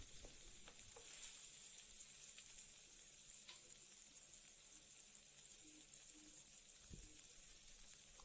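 Paneer fries in a pan with a soft, constant sizzle and a few faint clicks and scrapes, quiet and steady throughout, no voices.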